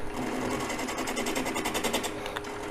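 A wood lathe spins at about 600 RPM while a bowl is turned, giving a continuous, loud, rattling whir with a steady rhythmic pulse, close by and alone.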